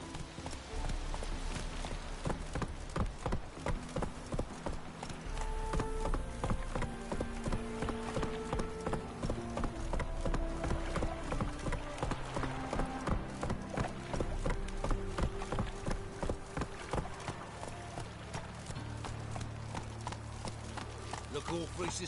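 Hooves of Geralt's horse Roach galloping in The Witcher video game, a rapid steady clip-clop rhythm throughout, mixed with game music, while voices talk over it.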